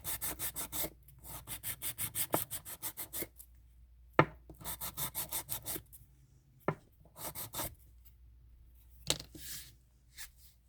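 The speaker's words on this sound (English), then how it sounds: "Water helps when sanding." Rhythmic wet sanding strokes on a terra cotta piece, a steady series of rasping rubs in quick bursts with brief pauses between sets, close up.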